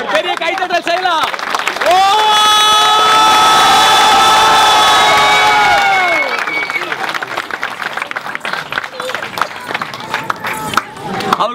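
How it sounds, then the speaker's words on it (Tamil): A crowd at a memorial gathering cheers and shouts loudly after a play, with sustained high-pitched children's voices in unison, then loud scattered clapping and chatter that fades into applause. "ஒரு பெரிய கைத்தட்டல் செய்யலாம்"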